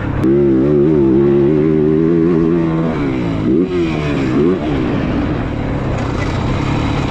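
A Yamaha YZ450F GYTR motocross bike engine roars loudly and close, holding a steady high rev before dipping and wobbling through throttle changes, with no voices over it.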